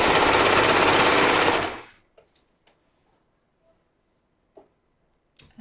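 A serger stitches a waistband onto a pair of leggings, running loud and steady for under two seconds before stopping abruptly, followed by a few faint clicks and small handling taps in near silence.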